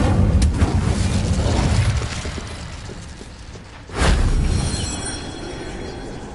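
A fire spell whooshes and booms in Hogwarts Legacy, a loud roaring blast that fades, then a second sudden burst of rumbling flame around the midpoint.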